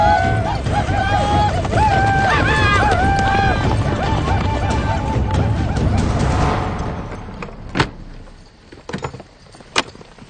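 A horse gallops with rapid clip-clop hoofbeats and whinnies loudly amid dramatic music, then the hooves fade and a few sharp, distant knocks follow.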